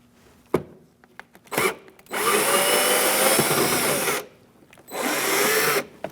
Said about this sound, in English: Using a Phillips, we're going to remove this screw as well.